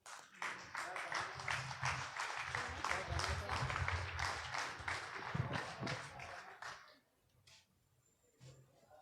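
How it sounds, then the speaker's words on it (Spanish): An audience at a political training meeting applauds warmly for several seconds to welcome an economist panelist to the stage, and the clapping fades out toward the end. "Lo recibimos con fuertes palmas."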